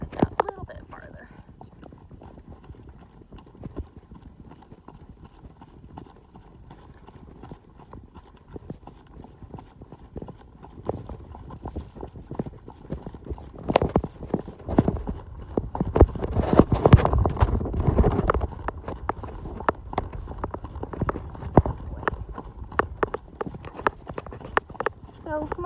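Horses' hooves clip-clop on a trail at the start of the Tevis Cup endurance ride, a quiet irregular plodding that grows louder and busier as more horses pass, with a rider talking over it.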